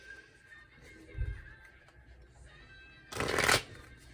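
Tarot cards being shuffled near the mic, a soft brief riffle followed by a louder, longer papery burst of cards snapping together over a quiet room hum.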